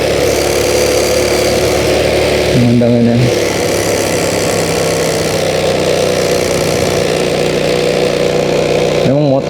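Motorcycle engine labouring loudly while climbing a steep village road near Koto Laweh in West Sumatra, a steady close drone throughout with someone talking over it.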